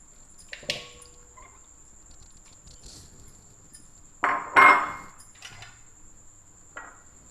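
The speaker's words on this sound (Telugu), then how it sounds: "ఇవి ఇలా గిన్నెలోకి వేసేస్తున్నా" Half a kilo of washed raw chicken pieces tipped into a bowl in a home kitchen: a quiet stretch of small taps, then a sudden cluster of louder clattering knocks midway and one softer knock near the end.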